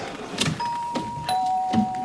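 A doorbell rings in a suburban home with two sustained electronic tones a moment apart, clear and moderately loud, along with a few soft knocks and clatters.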